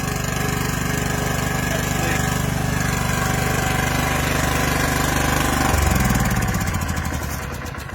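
A Red Roo rotary hoe's small engine runs at a steady, loud idle close up, then its note shifts and dips near the end as the tiller drive is engaged.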